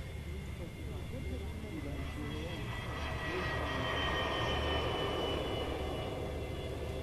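Aircraft engine roaring at RAF Mildenhall airfield, a steady broad drone that swells slightly as the plane passes, with someone talking over it.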